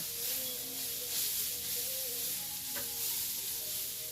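Sweet potatoes cook and caramelize in a pan, giving a steady, close sizzle with a soft hiss throughout and occasional faint stirring, no voices.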